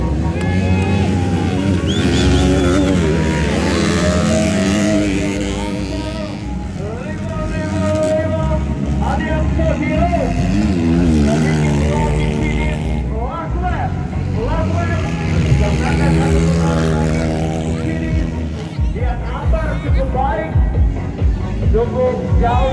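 Motorcycle engines roar and rev continuously at a grasstrack race circuit, rising and falling as bikes pass, with a commentator talking over the racing throughout.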